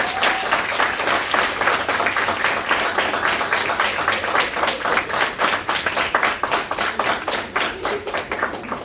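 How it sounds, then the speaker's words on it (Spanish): An audience at a breast cancer health talk claps to welcome a speaker, loud crowd applause that gradually settles into a more rhythmic, individually distinct clapping pattern before tapering slightly. "Y le damos la bienvenida el día de hoy con un fuerte aplauso,"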